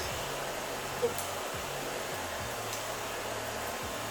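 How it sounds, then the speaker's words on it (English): A hair dryer blows a steady, close airflow hum while drying bangs during a haircut, with faint shifts in pitch as it moves. "definitely dry your bangs down to start training them"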